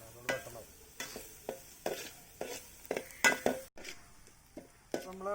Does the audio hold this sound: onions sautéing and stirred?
yes